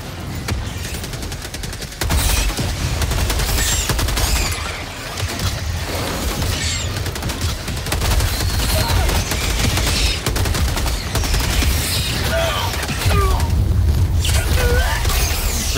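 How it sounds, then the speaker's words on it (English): Mortar explosions and rapid gunfire in the video game Helldivers 2, a loud continuous barrage of booms, blasts and automatic fire with heavy low rumble throughout and no talk. "seriously, freaking mortar, man."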